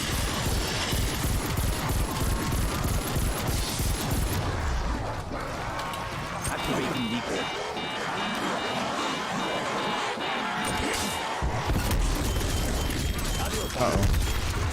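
Call of Duty gunfire, dense rapid shots and booms blended with game effects and music-like tones, heavy and continuous at first and thinning toward the middle, with a person talking over parts of it.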